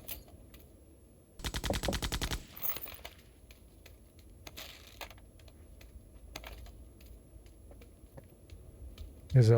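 Rapid automatic gunfire in a survival shooter game, one dense burst up close followed by quieter scattered shots and clicks, with a voice talking softly.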